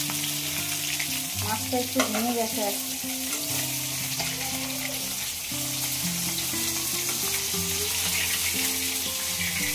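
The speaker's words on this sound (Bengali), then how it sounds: "এদিকে মাছ ভাজতেছি বন্ধুরা" Fish sizzles steadily in a kadai, crackling softly under background music, while someone speaks briefly over the cooking.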